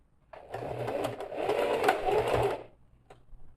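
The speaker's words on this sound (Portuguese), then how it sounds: "fazendo aquela costura de pesponto nas duas pontas para fixar esses acabamentos" A sewing machine with a multipurpose presser foot topstitches across the zipper ends of a cosmetic bag, running in one steady close burst of about two seconds before stopping, with no talk over it.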